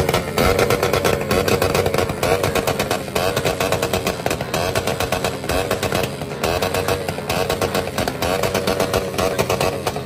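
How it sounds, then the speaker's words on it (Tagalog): Several motorcycle engines rev and roar continuously at a crowded street fiesta with motorcycles and cars, loud and close, their buzzing throttle blips overlapping without pause and no talking heard. "Ang daming mga motor ngayon matik yan, may mga natayo, may mga nagwi-wheelie"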